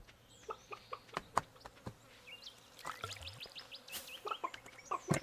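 Chickens on a video game farm, clucking in short, scattered bursts close by, with buzzing, insect-like ambience and soft clicks in between.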